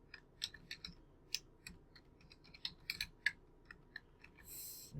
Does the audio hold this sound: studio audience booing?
no